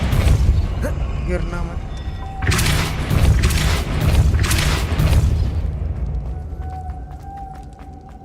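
Depulso spell blasts in Hogwarts Legacy, heard as a run of loud, booming, crackling bursts that rise and fade over several seconds, while someone talks in Hindi at the start and end.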